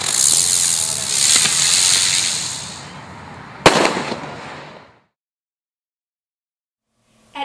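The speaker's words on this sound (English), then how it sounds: "This little piece zings into the air before bursting with a loud report." Buzz Bang novelty firework zinging up in a long hissing whine that fades, then one sharp burst with a short crackle, loud and close, followed by silence.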